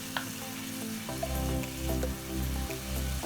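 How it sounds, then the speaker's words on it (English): Butter and garlic sizzle and fry in a pan for a pasta bake, a steady close crackle with low stirring thumps and scrapes running throughout. "you first melt your butter and add your garlic and fry that around a bit"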